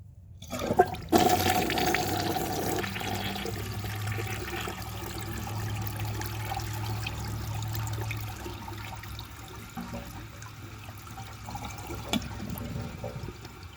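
A 1982 American Standard Plebe toilet flushes with its handle held down: a sharp handle clunk, then a long rushing swirl of water that settles into a steady gurgling drain and refill trickle, close and continuous.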